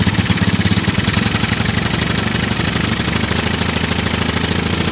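A three-wheeler motorbike engine revving hard and close, a loud, rapid, rough pulsing drone held steady throughout without letup or speech.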